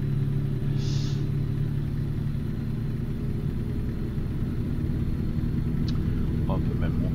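Truck engine in American Truck Simulator rumbling and building as it accelerates after a gear change, a steady low drone running throughout, with a voice speaking over it.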